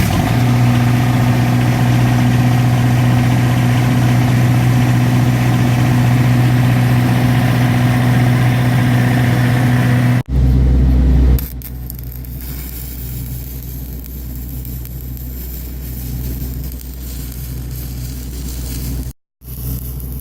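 A diesel engine with glow plugs, started for the first time in a day, idles loudly and steadily up close with a strong low hum, then cuts to a quieter, rougher running tone after a brief break; no voices.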